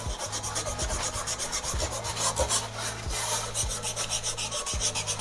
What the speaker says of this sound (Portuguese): Depois de secar, você vem com a lixa